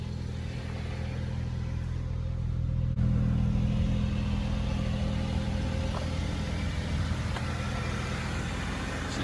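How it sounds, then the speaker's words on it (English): A BMW 235 engine runs close and loud with a dense, steady rumble and a brief surge of revving, any blow-off valve release buried in the engine roar; no talking. "Hear the sound of blowout valve"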